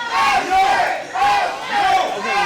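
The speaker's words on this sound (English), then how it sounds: "Crowd chanting mustard at D-Mogul" A wrestling crowd at a Rocket City Championship Wrestling event chanting in loud rhythmic bursts, the chant rising and falling in repeated waves from a packed audience.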